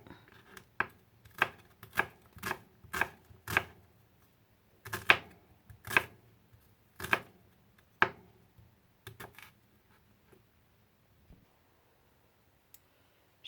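Shallot being chopped into small pieces with a knife on a cutting board, a run of sharp, close, rhythmic knocks in quick bursts that slow and thin out toward the end, with no talking.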